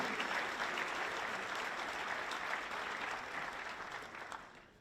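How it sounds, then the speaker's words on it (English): Audience applause at an elementary school band concert, a dense steady wash of many hands clapping throughout, fading slightly toward the end with no talk over it. "would you please give them a big round of applause?"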